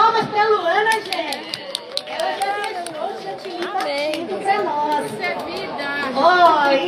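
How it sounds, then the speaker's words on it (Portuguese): An audience claps for an assistant during a cake-decorating demonstration of piped whipped-cream (chantilly) flowers. Quick, steady claps run throughout under lively chatter and talk. "palmas pra Luana, gente!"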